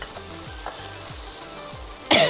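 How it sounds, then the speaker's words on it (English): Zucchini sizzles in a hot pan, a steady frying hiss with a few stirring scrapes, ending in a short loud burst near the close. "And I'm gonna immediately cook my zucchini."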